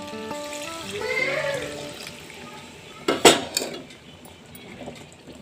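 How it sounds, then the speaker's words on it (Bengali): Water poured into a pot of chicken curry: a short splashing rush with a sharp clink of the vessel against the pot, after quieter kitchen rustling, with no voices. "এবার দিয়ে দেব জল।"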